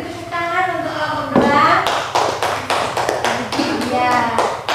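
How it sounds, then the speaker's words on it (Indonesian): A classroom of students claps for a group, sharp scattered hand claps rising and falling over a few seconds, mixed with children's voices chattering underneath. "beri tepuk tangan untuk kelompok"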